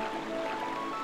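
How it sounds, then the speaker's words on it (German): A steady rushing waterfall in The Legend of Zelda: Twilight Princess HD, a continuous broadband wash of falling water heard alone for about a second at moderate level. "Kommt da ein Wasserfall?"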